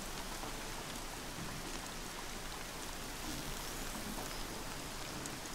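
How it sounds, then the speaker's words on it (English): Steady heavy rain in the video game Horizon Zero Dawn pattering on surfaces, a constant dense hiss with scattered drops, unbroken and with no voices. "It's heavy with rain."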